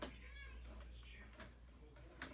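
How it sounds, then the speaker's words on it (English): Cats fighting and meowing at each other indoors, with short rising meow-like cries and a sharp hiss-like burst near the end, mid-distance over a low constant hum. "I want to go and make these cats stop bothering each other"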